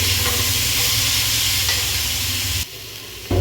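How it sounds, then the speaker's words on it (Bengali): Chopped cauliflower drops into a pan of hot oil for a potato curry, a loud, dense sizzling hiss that runs steadily, then cuts off abruptly near the end before briefly returning. "এবার কেটে রাখা ফুলকপিগুলোকে দিয়ে দেবো"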